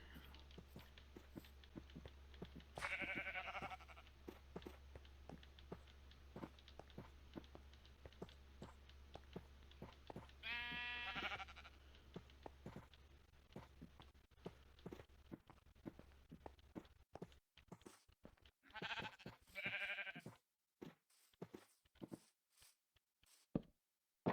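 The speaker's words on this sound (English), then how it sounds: "Now I got sheep." Three short, bleating calls from video game sheep, spaced several seconds apart, over a steady bed of footsteps and light game noise.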